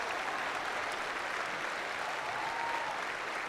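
An audience at a winter commencement ceremony applauds in a steady, even wash of clapping that fills the hall and sounds somewhat distant, with a faint tone under it.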